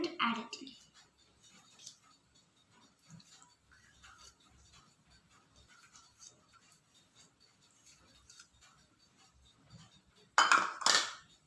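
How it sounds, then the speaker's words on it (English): A spoon works ghee into whole wheat atta cookie dough in a bowl, giving soft, quiet scraping and occasional clinks against the bowl, with a brief louder clatter near the end. "Now we're going to just mix it so that it's combined."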